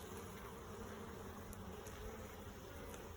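Dense, steady buzzing of many honeybees crowding a beehive frame, close and continuous without a break, and no voices.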